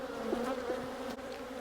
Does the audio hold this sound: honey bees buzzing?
yes